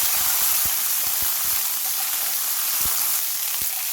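Curry leaves crackle in hot oil in a pan while a tomato chutney base is being prepared. A loud, dense, hissing sizzle fills the sound throughout, with scattered low thumps from stirring.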